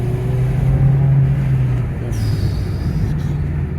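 A Mazda 3 BM with a 2.0 engine accelerates, its loud, steady engine drone filling the cabin throughout and swelling slightly before easing off, with no talking.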